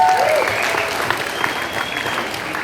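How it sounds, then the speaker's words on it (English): Dense, steady clapping fills a room of guests at a bar mitzvah celebration, a continuous wash of applause with no pauses. "One more big round of applause, please, for Mia."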